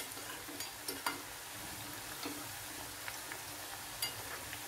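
Bitter gourd pieces fry over high heat in a pan, giving a faint, even hiss with occasional soft ticks and light crackles.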